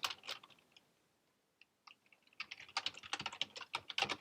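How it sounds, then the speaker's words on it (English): Rapid typing on a computer keyboard during a programming session, with bursts of crisp key clicks, a short pause near the middle, then denser, louder keystrokes; no speech. "It's a lot of typing"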